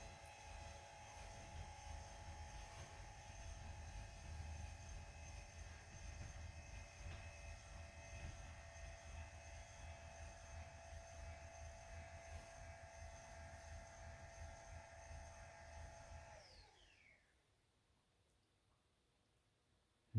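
An AirLIFT Pro adjustable sit-stand desk from Seville Classics, blue with a glass top, runs its motor with a steady whirring hum for about sixteen seconds, then stops and the room goes quiet.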